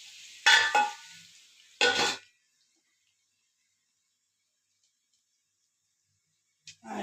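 Potatoes frying in a pan during Bengali home cooking, softening as they cook, give two short bursts of sizzling and stirring early on, then near silence, with a faint clink at the very end.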